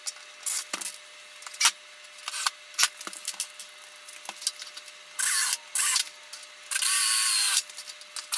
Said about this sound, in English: I'll also run a few pilot holes and screws on the sides of this panel too